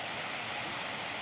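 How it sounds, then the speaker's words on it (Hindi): A forest waterfall flowing along a riverbank path on a pilgrimage route, heard as a steady, fairly loud broadband rush of falling water with no breaks and no voices. "और ये झरना है, झरना बह रहा है।"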